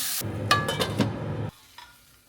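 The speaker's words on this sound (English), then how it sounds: "I'm just cooking my lunchtime omelette, obviously, and the pans are amazing." An omelette cooks in an expensive new nonstick frying pan at lunchtime, giving a loud burst of stirring and scraping with sizzle for over a second before it drops to a faint quiet hiss.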